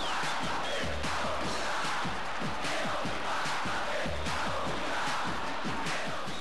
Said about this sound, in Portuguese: Mas que depois explode num grito alucinado e forte